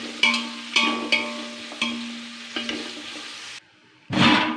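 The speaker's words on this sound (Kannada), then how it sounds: "ಅದನ್ನು ಎಣ್ಣೆನೇ ಫ್ರೈ ಮಾಡಿ ಚೆನ್ನಾಗಿ ಗೋಲ್ಡನ್ ಕಲರ್ ಬರಬೇಕು ಈರುಳ್ಳಿ" Onions frying in oil in a pan for Hyderabadi chicken dum biryani: a soft sizzle broken by several sharp stirring scrapes, then a brief pause and a louder burst of stirring at the end, no speech.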